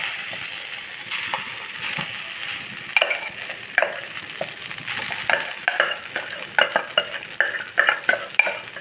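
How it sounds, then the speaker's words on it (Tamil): Masala mixture is stirred in a kadai, with a spoon scraping and knocking against the metal in quickening, irregular strokes over a soft sizzle. "கடாயில் நம்ம இதை வந்து சேர்த்துடலாம். ஏன்னா இதில் வந்து நம்ம கிளறதுக்கு வசதியாக"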